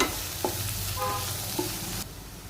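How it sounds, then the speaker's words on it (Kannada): Onion frying in oil as a tempering for a stuffed capsicum dish, a short, close sizzle broken by a few stirring scrapes, cutting off abruptly near the end. "ಈಗ ಒಗ್ಗರಣೆಗೆ ಒಂದು ಈರುಳ್ಳಿ ಹಾಕ್ಕೊಂಡಿದ್ದೀನಿ. ಚೆನ್ನಾಗಿ ಒಗ್ಗರಣೆ ಬ್ರೌನ್ ಕಲರ್ ಬರೋರಿಗೆ ಬೇಯಿಸ್ಕೊಳ್ಳೋಣ"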